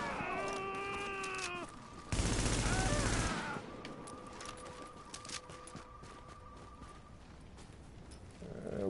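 Gunfire in the shooter game The Division, a dense burst of rapid shots around the middle followed by scattered quieter shots among game effects and tonal sounds, with someone talking at times.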